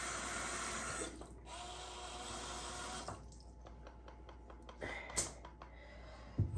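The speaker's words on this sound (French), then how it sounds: "Je vais juste me rincer le visage." Tap water running into a sink while someone rinses their face, a steady close splashing stream with brief pauses and small splashes, no talking.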